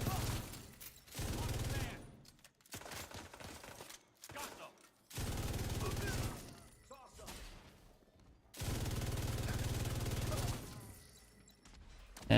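An MG5 machine gun in the shooter game The Division 2 fires in several long sustained bursts separated by short pauses, loud and close, with a mechanical clatter between volleys.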